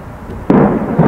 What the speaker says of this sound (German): Das war eine Kugelbombe.